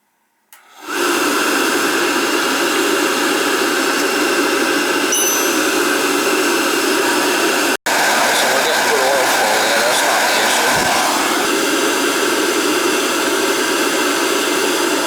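A Riello oil burner motor on a burner that will not fire starts up and runs with a loud, steady whirring roar, briefly cutting out for an instant midway, then continuing.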